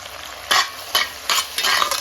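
Chopped tomatoes with ginger garlic paste frying in a pan, a close sizzle broken by four regular bursts of stirring scrapes about every half second.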